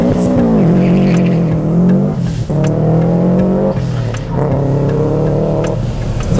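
A Subaru WRX STI hill climb race car, built up from a stock two-door STI Type R, revs loudly and close by at a lakeside hillclimb event, its engine note climbing in three rising sweeps with brief dips between them.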